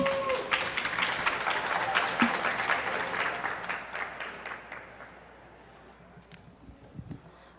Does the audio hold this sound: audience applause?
yes